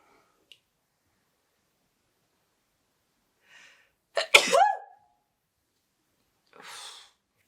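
A single loud, sharp sneeze bursts out close by, preceded by a small click and a faint breath and followed a few seconds later by a soft exhale, all in an otherwise quiet room.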